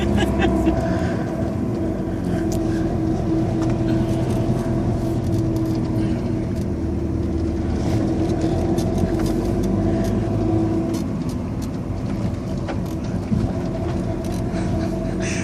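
Steady engine and road drone from inside a moving Opel Astra Turbo, a low continuous rumble with tire and wind noise that holds even throughout, while people talk and laugh in the cabin.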